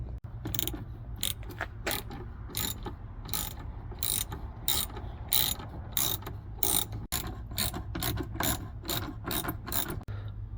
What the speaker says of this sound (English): To remove the screws you can use either a Phillips screwdriver or a 10mm socket and a ratchet.